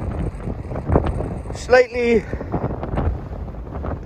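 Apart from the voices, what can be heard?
wind blowing on a crag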